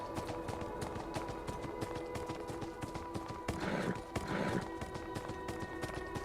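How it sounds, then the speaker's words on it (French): Horse hooves clip-clopping in the video game Beyond: Two Souls, a steady rhythmic trot under game music, with a couple of brief louder snorting or neighing bursts near the middle. "il y a déjà un cheval ici"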